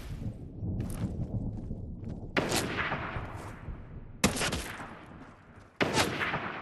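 Three loud sniper rifle shots ring out in a Fortnite match, each a sharp crack followed by a long rolling echo, spaced about two seconds apart, with faint game noise between them.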